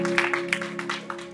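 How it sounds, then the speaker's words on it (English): A church congregation claps along together at a Sunday service, a steady run of hand claps heard at moderate distance over a sustained organ or keyboard tone. "If you're just happy, just put your hands together and clap"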